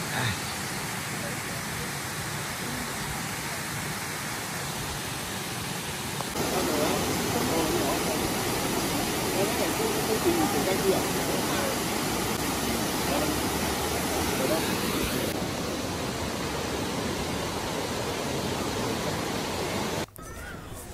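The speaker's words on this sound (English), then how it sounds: "we found some waterfalls at the bottom of the mountain" Waterfall at the bottom of a mountain in the Cameron Highlands, Malaysia, a steady broadband rush of falling water that runs throughout and grows slightly louder partway in, with no talk.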